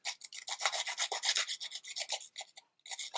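Card stock edges being scuffed give a close, steady rasping rub, a fast series of short back-and-forth strokes that runs almost without a break before a brief pause and one last burst.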